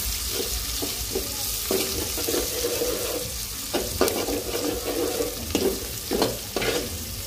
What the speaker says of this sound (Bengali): চিংড়ি মাছগুলো পেঁয়াজের সাথে ভালো করে ভেজে নিব